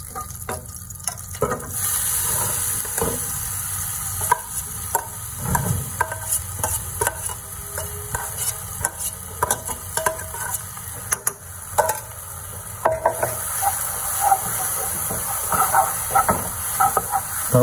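Chilli spice paste sizzles and hisses in two tablespoons of hot oil, with repeated scraping and stirring clicks from a spatula throughout, close and steady.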